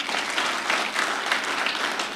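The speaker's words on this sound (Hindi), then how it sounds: "तालियां बजाएं इनके लिए" Applause from an audience at a direct-selling event, a dense, steady clapping that holds evenly for the whole stretch, fairly loud and close.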